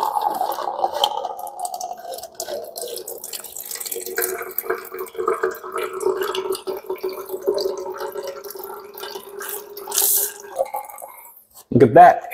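A Frizzlife countertop reverse osmosis system dispenses a measured pour of filtered water, a steady trickling flow running for several seconds indoors, ending with a louder clunk near the end.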